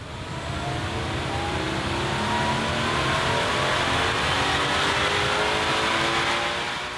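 A Harrop TVS1320 supercharged FA24 Toyota GR86 or Subaru BRZ, with an 85mm pulley at 8 psi boost, makes a loud sustained engine roar, swelling and easing off across several seconds with no talk.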